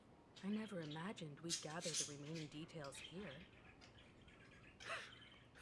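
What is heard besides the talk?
bird squawking in the video game Honkai Star Rail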